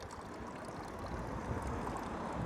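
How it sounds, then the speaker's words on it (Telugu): Water runs steadily from an old village fountain in Germany, built in 1892, making a faint, continuous splashing flow heard from close by, with no voices. "అప్పటి నుండి ఇప్పటికి ఇంకా రన్నింగ్గా వాటర్ పోస్తూనే ఉంది ఇది"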